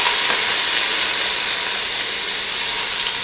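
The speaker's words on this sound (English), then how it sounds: "So this garlic is sizzling just a little bit." Diced garlic sizzling in a smoking hot pan, a steady bright hissing crackle, close and continuous with no voices.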